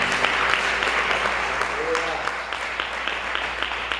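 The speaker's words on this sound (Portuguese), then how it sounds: "Você pode aplaudir ao Senhor" A church congregation applauds at an evening service, with brisk, full clapping at moderate distance that thins slightly toward the end, while a voice speaks faintly underneath.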